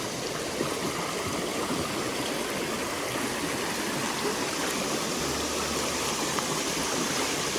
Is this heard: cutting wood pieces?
no